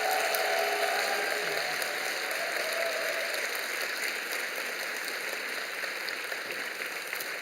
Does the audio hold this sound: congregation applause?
yes